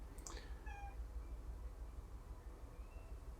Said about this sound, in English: Got a kitty cat.